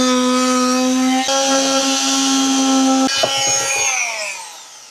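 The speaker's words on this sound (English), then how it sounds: "I've got to cut away a part of this trim because the furniture hits it. For that, I'm using a multi-tool." An oscillating multi-tool cuts through trim inside a Ford Transit camper van conversion, a loud, close, steady high-pitched buzz that shifts pitch as it bites into the material before winding down.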